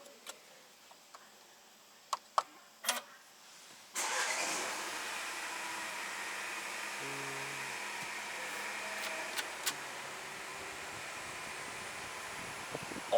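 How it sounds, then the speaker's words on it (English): A 2019 Mercedes-Benz A200 starts up from inside the cabin: a few faint clicks, then the engine fires abruptly and settles into a steady, moderately loud idle that runs on alone. "Start the car."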